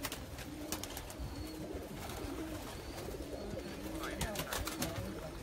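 Pigeons cooing softly in a busy setting, faint and low, over a murmur of background noise and scattered clicks.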